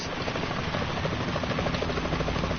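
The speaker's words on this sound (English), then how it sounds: "Is that a chopper I just heard?" A helicopter in the game Metal Gear Solid 2 throbs steadily with a rapid rotor chop, heard close and constant with no voices over it.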